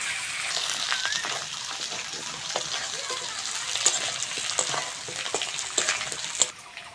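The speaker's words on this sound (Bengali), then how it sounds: "পেঁয়াজের সঙ্গে আলুটা ভালো করে ভেজে নেবো" New potatoes frying with onions in a hot pan, a steady dense sizzle with scraping stirs and occasional louder crackles throughout.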